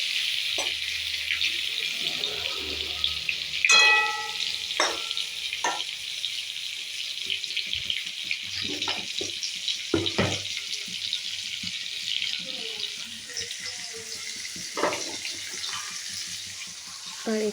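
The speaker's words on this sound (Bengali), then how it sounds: "তেলের মধ্যে অল্প অল্প করে আলুগুলো ছেড়ে দিচ্ছি। আলুটাকে এবার ভালো করে লাল লাল করে ভেজে নেব।" Potatoes frying in hot oil, a steady close sizzle with bursts of crackle and spattering, plus intermittent knocks and clinks of utensils.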